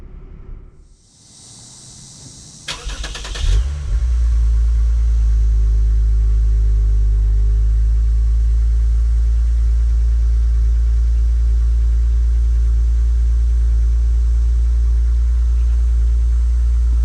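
A 2021 Lexus RC350 F-Sport fires up with a quick starter whir, flares briefly, then settles into a loud, steady low idle that hums on unchanged for a long stretch.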